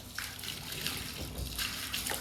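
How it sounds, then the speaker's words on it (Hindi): Water splashing and running while a house is washed down, including its doors, a steady wet spattering that continues throughout at close range with no speech. "धो दो धो दो दरवाजे भी, सारा कुछ धो दो।"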